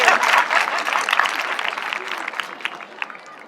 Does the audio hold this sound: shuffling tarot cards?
no